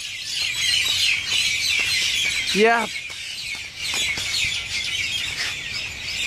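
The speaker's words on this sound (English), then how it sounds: "The wonderful sound of birds." Birds chirp and twitter steadily in the background at a Seychelles resort at night, with a brief squawking call rising partway through and a short spoken word.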